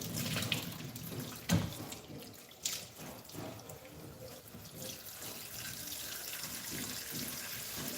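A kitchen tap runs while a pineapple is washed under it, a soft, steady hiss of water broken by a few louder splashes and knocks as the fruit is handled.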